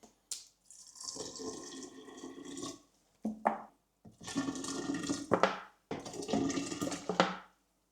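Water is poured in several separate bursts into glass jars holding water kefir grains. Each pour is soft and close, with short pauses between them.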